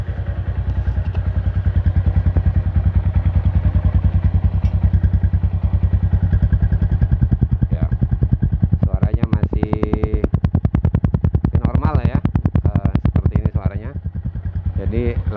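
A Yamaha Jupiter MX motorcycle engine with eleven years of use idles close by in a steady, rapid putter, with someone talking over it in the middle.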